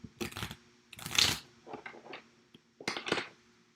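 A deck of cards for a tabletop game being shuffled in several short, papery riffling bursts with pauses between them, close and moderately loud.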